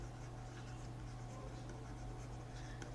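A pen writing out a math answer by hand on paper during a class 5 lesson, a soft steady scratching that runs continuously for a few seconds under a constant low hum, with no speech.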